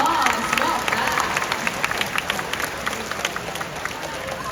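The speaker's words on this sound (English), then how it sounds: "Can we give Quincy a round of applause?" A bird show audience breaks into applause, a scattered, lively patter of clapping at moderate loudness with crowd noise mixed in.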